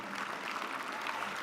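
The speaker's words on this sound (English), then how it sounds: "Yeah, clap for that." An audience at the SXSW Hall of Fame induction for Dan Rather claps in a dense, even burst of applause, brief and steady with no voices standing out.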